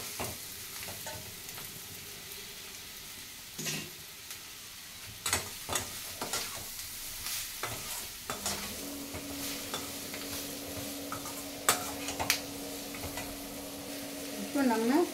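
Ivy gourd (kovakkai) sizzles in a frying pan while a spoon scrapes and stirs it in irregular strokes, with a steady hiss throughout and a faint tonal hum near the end, close and moderate with no talking.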